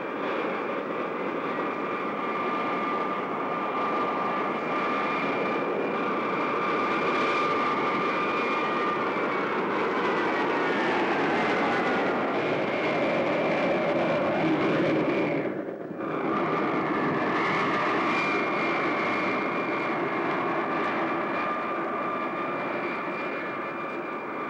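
Airliner engines droning steadily during approach to Cairo International Airport, a loud continuous jet roar with a brief dip near the end.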